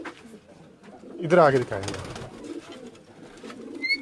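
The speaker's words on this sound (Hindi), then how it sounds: "ये मेरे कबूतर है भैया" Racing pigeons coo close by in a loft while someone speaks over them and background chatter continues.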